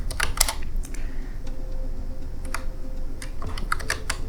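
Keys clatter on a computer keyboard as text is typed into ChatGPT, a close, busy run of uneven taps and clicks over a steady background hum.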